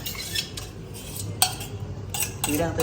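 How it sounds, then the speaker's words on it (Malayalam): Soaked soya chunks mixed with a spoon in a bowl, several distinct metallic clinks and scrapes at irregular intervals over a soft background, close by and without speech. "ഞാൻ എന്താ സ്പൂൺ വെച്ച് തന്നെ മിക്സ് ചെയ്തെടുക്കുകയാണ്."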